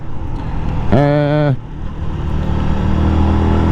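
A motorcycle goes by on a road during a group ride, its engine note rising in a brief pass close by with steady wind and road noise around it.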